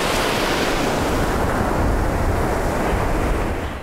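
Ocean waves break and wash along the eroding Cape Hatteras shoreline in a steady, loud, continuous roar, with wind buffeting the microphone throughout and no voices.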